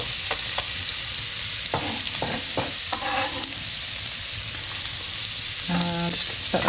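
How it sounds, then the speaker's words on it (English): Black pudding and onion frying in a pan, a continuous close sizzle with intermittent scrapes and taps of the utensil stirring, bright and fairly loud. "just add my black pudding in there, and also the onion in at this stage."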